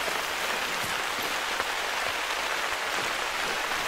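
Steady rain in the hunting game Hunter: Call of the Wild pours down as a constant, even hiss of drops with no pauses, heard alone throughout.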